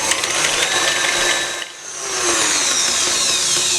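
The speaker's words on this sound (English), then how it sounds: "after add the eggs one by one and whisk that about 2 minutes" Electric mixer whisking eggs into butter for a chocolate sponge cake. A loud, steady high whir runs throughout, dips briefly midway, then rises again.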